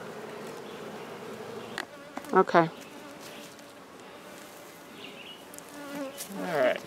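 Honey bees from a nucleus colony being moved into a ten-frame hive hum around the opened box, a continuous buzz under brief speech, with a sharp louder burst partway through.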